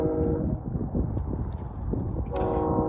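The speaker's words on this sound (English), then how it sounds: "oh shoot, there's the doggone train" A train passes near an outdoor shooting range, its low rumble and clatter rolling steadily before a loud horn blast sounds near the end.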